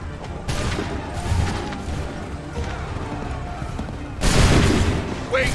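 In Assassin's Creed 3, a line of soldiers fires a musket volley: dense overlapping crackling gunfire, a first ragged burst followed later by a louder booming volley, with battlefield commotion around it.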